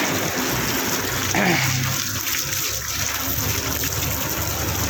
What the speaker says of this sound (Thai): ล้างน้ำให้สะอาด ล้างน้ำไปให้สะอาด